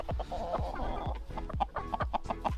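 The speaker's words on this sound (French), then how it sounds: "Oh regarde le coq." Chickens and a rooster clucking close by on a farm, a rapid run of short, repeated clucks and squawks that overlap one another continuously.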